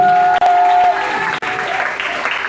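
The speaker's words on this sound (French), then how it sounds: "Acclame fortement le Seigneur Jésus." A church congregation applauds together in a loud, steady burst of clapping with a sustained tone ringing through the first second, the crowd noise close and filling the room.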